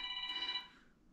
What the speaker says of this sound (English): There goes that phone.